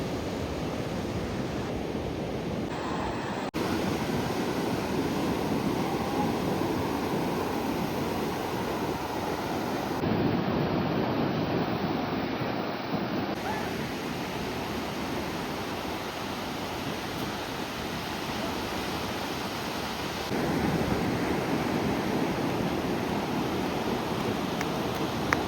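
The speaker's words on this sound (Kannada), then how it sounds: "ಆ ಸಮುದ್ರದ ಅಲೆಗಳ ಸೌಂಡ್ ಕೇಳ್ಕೊಂಡು ಆರಾಮ ಪೀಸಾಗಿ ನಿದ್ದೆ ಮಾಡ್ತಿದ್ದೆ ನಾನು." Sea waves on a Goa beach make a continuous broad roaring wash of surf, steady and fairly loud throughout with slight swells, and no voices.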